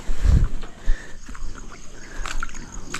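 A small bangka boat rocks on strong water, with water sloshing against the hull, a thud near the start, and wind noise in the background.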